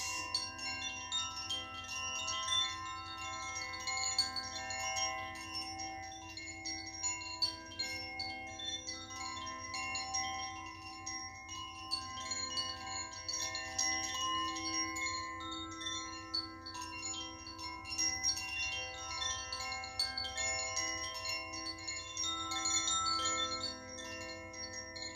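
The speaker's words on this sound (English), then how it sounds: "Sound of the chimes" Chimes ringing gently through a yoga relaxation, a continuous shimmering wash of sustained metallic tones with overlapping strikes, steady and moderately soft throughout with no talking.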